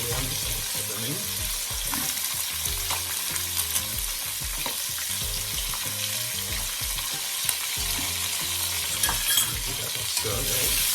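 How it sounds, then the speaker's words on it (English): Scallions frying in a pot for curry chicken feet, with a steady loud sizzle and occasional stirring scrapes, close up and continuous with no talk. "Shake off the scallion and put them in."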